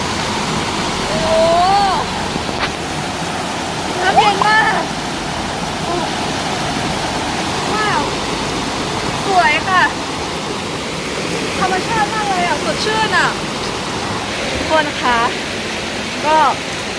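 Water rushes and splashes steadily over rocks in a nearby stream, with occasional brief chirps and faint voices over the flow.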